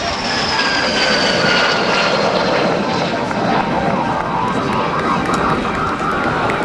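An MS760 jet aircraft roars past in a low airshow flyby, loud and continuous broadband engine noise with a rising whine, sustained throughout as it sweeps by.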